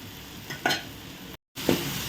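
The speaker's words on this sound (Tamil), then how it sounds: "மசாலா நல்லா வந்து வேகட்டும்" Masala with chilli powder fries in a pan for egg masala rice, a steady close sizzle broken by a few scraping stirs and one brief dropout.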